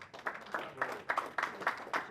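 An audience applauds a municipal councillor at a community gathering in Montréal-Nord. The clapping is faint and steady, falling into a loose rhythmic pulse of bursts roughly four per second.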